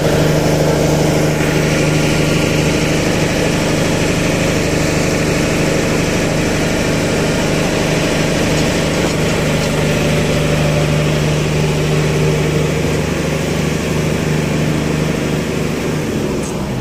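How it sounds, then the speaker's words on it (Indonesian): A diesel generator set straining under load, a loud, steady, close engine drone with constant low rumble and broadband roar that runs without a break. "Genset yang ini langsung ngeden,"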